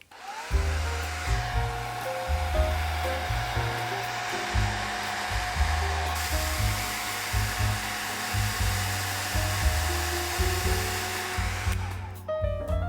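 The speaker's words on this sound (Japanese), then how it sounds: "ドライヤーを使って乾かします。" A hair dryer drying watercolour pencil paint on paper runs continuously at close range, a steady loud whirring blow that shifts slightly in tone as it moves, then cuts off.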